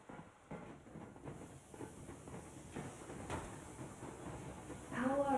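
A steam train rolls along in the Metro Exodus video game, a quiet, steady rumble with soft rhythmic clatter and a hiss rising near the end, alongside faint voices.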